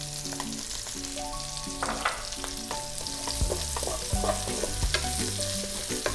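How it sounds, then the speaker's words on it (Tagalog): Chopped garlic and onion sautéing in a little oil for a Filipino chicken curry, a steady sizzle with repeated spatula scrapes and stirring knocks against the pan, close and clear with no voices. "gigisayin ko lang siya siguro ng mga 20 seconds bago tayo mag-add ng kamatis"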